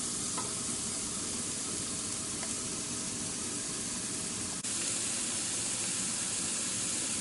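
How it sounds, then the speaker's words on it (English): Onions frying in a pot for pumpkin soup give a steady, moderately loud sizzle and hiss throughout, with occasional faint stirring clicks and no talking. "And we'll get our onions in right now too, get them cooking."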